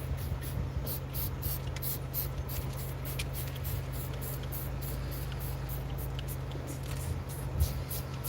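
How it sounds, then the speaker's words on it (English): Spray being applied to the outside of a van during a rainstorm, an even, continuous hiss with soft pulsing bursts over steady rain and a low hum, fairly close. "I'm gonna spray it on this thing so the rain can just rinse it off."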